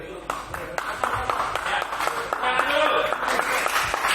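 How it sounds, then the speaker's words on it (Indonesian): Applause from spectators at a table tennis tournament match, a steady patter of clapping that swells toward the end, mixed with murmuring voices and some talk in the hall. "Ya, tepuk tangan Andrea."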